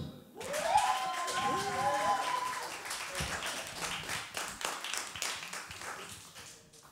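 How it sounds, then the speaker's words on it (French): An audience claps for a singer about to perform on a live music show. The clapping builds beneath a brief voice, then carries on as scattered, moderately loud hand claps that fade toward the end. "On l'applaudit."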